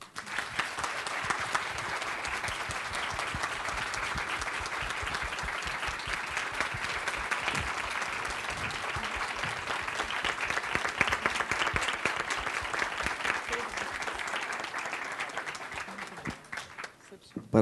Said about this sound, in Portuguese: desembargadora Maria Cecília Alves Pinto, pela forma que foi aplaudida.